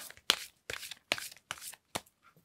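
Tarot cards shuffled and slapped down in five sharp bursts, each a crisp papery riffle followed by a pause, close and fairly loud with no talk.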